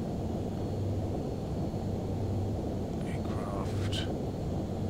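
A flight simulator aircraft engine drones in Microsoft Flight Simulator X, a loud, steady, low rumble with a few faint clicks and tones near the end.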